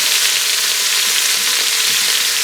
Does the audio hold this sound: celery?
yes